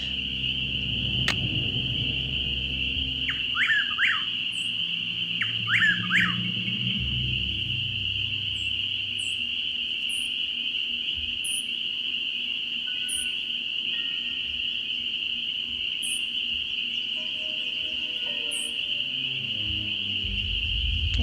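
Crickets chirp in a Nancy Drew video game: a continuous high, shrill chirring holds steady throughout, with a few short sharper chirps and faint birdlike calls on top. No one speaks.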